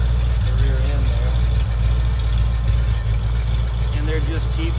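A V8 engine idles through cheap mufflers and a restrictive exhaust dumping just past the rear end, a steady deep rumble that runs throughout under someone talking.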